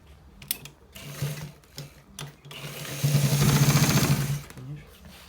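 A sewing machine stitches a designer collar shirt, starting with short separate runs and then one sustained rapid whir of stitching near the end, close and fairly loud, with someone talking over parts of it.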